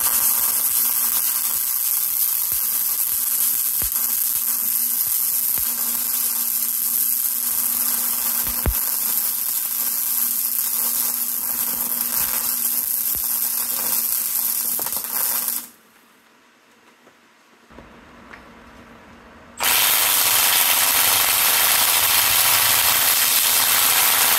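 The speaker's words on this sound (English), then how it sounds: "So we got the welder going." A welder is used to remove a stuck bolt during a forged MZR 2.3 engine build, giving a long, loud, steady crackling buzz that cuts out for a few seconds and then resumes at full strength.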